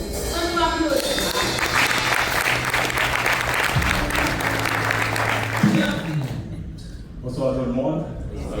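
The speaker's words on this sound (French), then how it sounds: "On va applaudir." At a 90th birthday ceremony, an audience applauds loudly and steadily while voices and some music-like tones sound over the clapping, which thins out briefly near the end.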